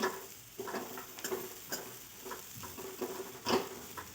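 A spoon scrapes and stirs through a pan of broad bean curry with peanuts, giving a series of soft rhythmic scrapes and taps over a quiet, low sizzle.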